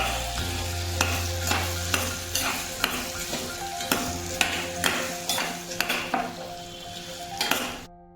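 Okra fried in a pan with garlic, curry leaves and turmeric is stirred by hand, giving steady sizzling with repeated scraping and clinking of the utensil against the pan. No one speaks.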